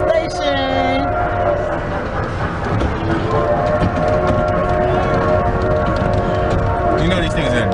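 A passenger train rolls into a station with a steady, loud rumble and rattle of the cars running throughout, tonal squeals at the start and end, and people talking nearby over the noise.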